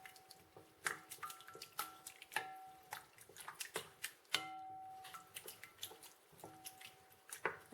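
A creamy cornbread casserole mixture being stirred, giving soft wet squishes and light clicks of the spoon against the bowl in a loose, repeating rhythm, close and quiet, with no talking.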